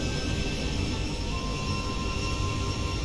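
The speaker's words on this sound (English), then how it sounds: "I've had people say they love it when the engine sounds are up." Boeing 737-800 engines in the X-Plane 12 flight simulator give a steady, loud jet drone with a constant whine running throughout, with no other sounds.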